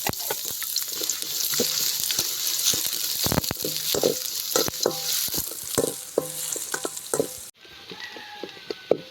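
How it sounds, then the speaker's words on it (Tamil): Small shallots sauté in a pan for potato fry, a loud close sizzle broken by rapid rhythmic scraping and tapping of a spatula, ending with a quieter, softer crackle. "சின்ன வெங்காயம் நம்ம கட் பண்ணி வச்சுருக்கோம்ல இப்போ அதை சேர்த்துக்குறோம்"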